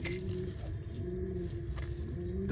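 Madrasi pigeons with clipped wings coo softly while being handled, giving a steady low purring murmur that runs without a break against faint background noise.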